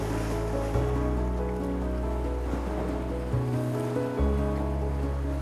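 Ocean waves and gusty wind along the French coast, a loud, continuous roar of surf with buffeting wind and a low boat-like drone throughout, no voices.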